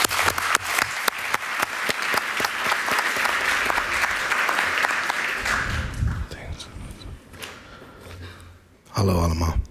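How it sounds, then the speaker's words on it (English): An audience at an evening event applauds a rapper taking the floor, with sharp, close individual claps over a thick wash of clapping that thins out and fades after several seconds before a brief louder burst of sound at the end. "Give him a warm hand of applause."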